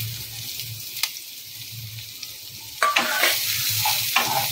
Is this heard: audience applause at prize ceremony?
no